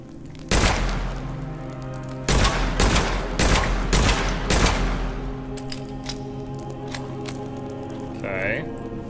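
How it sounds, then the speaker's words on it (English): Hand cannon fired in the video game Witchfire, about five heavy booming shots with long ringing tails, the first alone and then four in a quick cluster, followed by quieter game ambience and a brief tonal effect. "But let's try out the hand cannon."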